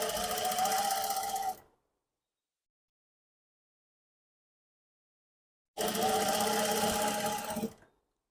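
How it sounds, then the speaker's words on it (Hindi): Domestic sewing machine stitching piping onto a garment neckline, two loud continuous runs of rapid motor whirring and needle chatter, each about one and a half seconds long, separated by several seconds of silence. "इस तरीके से आपने यहाँ पे सिलाई लगाते हुए ये पाइपिंग अटैच करनी है।"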